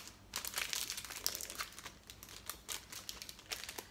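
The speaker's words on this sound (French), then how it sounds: "Oui, je frotte avec un papier." A piece of paper rubbed against an item to clean it, giving soft crinkly scratching strokes in quick, irregular bursts, close and fairly quiet.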